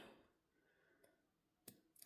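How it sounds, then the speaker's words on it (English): Detail scissors snip through fabric while a bucket hat is sewn, giving two sharp, close cuts near the end after a faint rustle, with quiet between. "I just take my detail scissors and just snip halfway up on one side"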